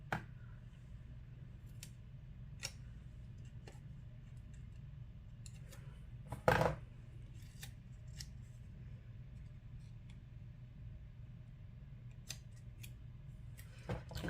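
Scissors cut a sticker with small, sparse snips, then one sharper, louder clip near the middle, all close up against a quiet room with no talking.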